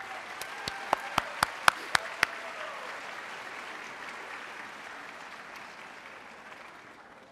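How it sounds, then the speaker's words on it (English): Applause from a middle school concert audience for the band: a handful of sharp, close claps up front over a softer, distant crowd clapping that slowly fades away. "Round of applause for them."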